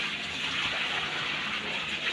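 Water gushes steadily, as if from a tap or hose, while a dog is bathed, a continuous close splashing rush with no voices.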